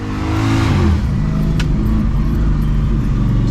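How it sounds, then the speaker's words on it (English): A powerful race car engine accelerates hard, a loud close roar with rising harmonics and a shift partway through, continuous for several seconds. "car makes quite a bit of power"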